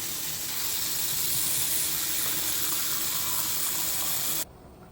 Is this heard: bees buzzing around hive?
no